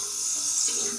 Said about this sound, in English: And I typically wet my face with cold water.